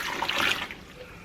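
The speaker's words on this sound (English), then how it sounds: "I'm gonna add my 4 cups of brown sugar and my 2 cups of water." Two cups of water are poured into a big pot holding four cups of brown sugar: a short splashing gush that fades within about half a second, leaving quiet room tone.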